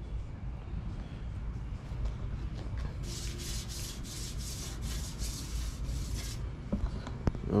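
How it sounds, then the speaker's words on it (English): Rhythmic hand sanding of plastic trim panels, a run of short scratchy strokes in the middle of the clip, close by over steady low background hum. "I'm sanding down real good."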